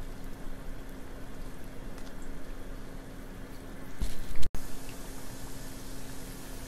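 A cheese corn dog deep-fries in hot oil, giving a constant close sizzle and bubbling crackle, with a brief louder splash and clunk near the end.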